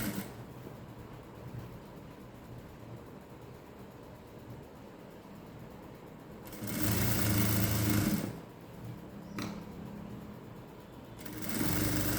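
Sewing machine running a seam on cigarette-style pants, quiet at first, then a loud close burst of rapid stitching, a pause, a brief start and another short run at the end.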